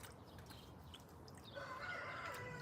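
A rooster crows at a distance, faint and drawn out in the second half, over low background noise.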